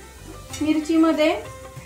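Green chillies fry in oil in a pan for sabudana khichdi, a soft steady sizzle running under a short stretch of a person's voice in the middle.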